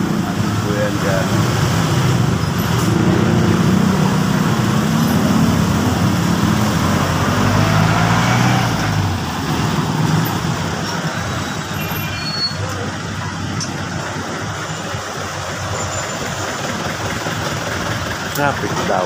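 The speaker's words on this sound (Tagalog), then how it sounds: "Traffic daw." Road traffic near an Ayala mall hums steadily, with idling engines and a continuous low rumble of vehicles throughout, while people talk over it.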